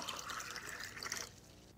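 The upper oil layer from a separating funnel pours into a separate container, giving a faint, steady liquid trickle that stops near the end.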